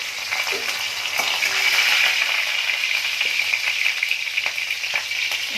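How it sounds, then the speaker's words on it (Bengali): Black cumin seeds and dried chilies sizzle in hot oil for a Bengali fish curry, giving a loud, continuous crackling hiss with small pops, close up and uninterrupted by speech. "এবার কালো জিরে ফোড়ন দিলাম আর শুকনো লঙ্কা ফোড়ন দিলাম"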